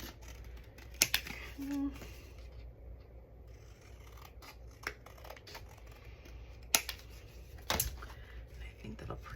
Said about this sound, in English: Let me see if I can cut off just the edges of this bit.